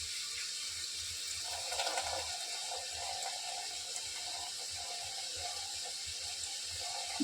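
Rice being washed under running tap water at home. A steady, soft stream splashes into a vessel, with gentle sloshing as the grains are stirred, and no voices.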